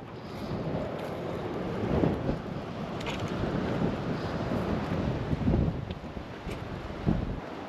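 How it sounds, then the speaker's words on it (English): Steady gusty wind roars across an outdoor garden bed, rumbling against the microphone and swelling in a few stronger buffets, with no voices. "It's a little windy today."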